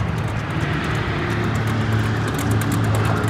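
A McLaren 600LT sports car engine at a Cars and Coffee meet, heard as a continuous low rumble that swells slightly toward the end, moderately loud and alone.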